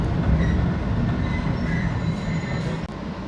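Jaffar Express train pulling away from a station platform, a loud steady rumble of wheels and carriages with faint metallic squeals rising near the end, no voices.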